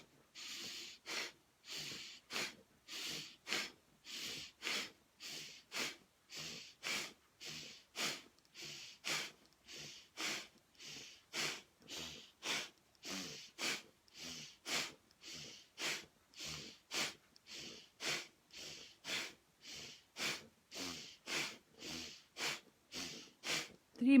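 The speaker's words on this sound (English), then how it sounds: "Okay, so breathe in." Slow, deep breaths repeat steadily as a calm breathing exercise, each airy inhale and exhale close and clearly audible, pulsing in an even rhythm with short gaps between them.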